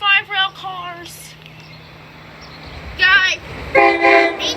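A SEPTA Silverliner V commuter train, number 531 to Malvern, arrives at Elkins Park, sounding several loud, close horn blasts over a low rolling rumble, with quieter stretches between the toots.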